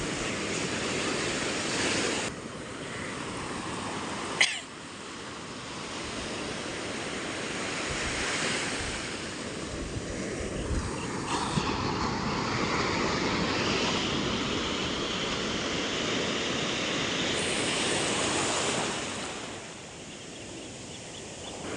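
Ocean surf rolls and breaks steadily on Varca beach in Goa, a continuous broadband wash of waves with wind noise across the microphone, swelling and easing over about twenty seconds, with no voices.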